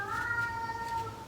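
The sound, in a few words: cat crying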